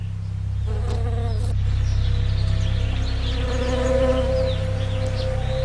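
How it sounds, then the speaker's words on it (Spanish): Bees swarm through a California almond orchard in spring pollination season, a dense, close, continuous buzz with a low drone underneath and individual insects whining past. "millones de abejas son transportadas hasta aquí para que ayuden en la polinización de los almendros"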